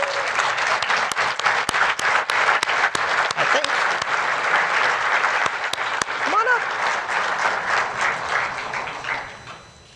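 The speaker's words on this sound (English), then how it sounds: "So let's give her a round of applause." Sustained crowd applause at a 2014 tile and stone design awards ceremony, dense and steady for most of the stretch with sharp camera clicks scattered through it and a brief voice partway in, tapering off near the end.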